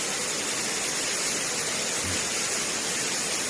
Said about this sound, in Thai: น้ำตกถ้ำโซดา อำเภอ หนองพอก จังหวัดร้อยเอ็ด